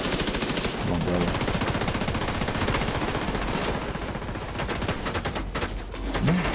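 Rapid automatic gunfire from a Division 2 firefight, dense sustained bursts of shots filling the whole stretch at close range, with a brief lull near the end before more shots.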